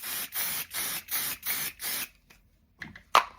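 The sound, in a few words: Crafter's Companion stick and spray adhesive being sprayed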